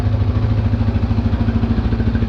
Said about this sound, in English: And now we got it idling a little more better.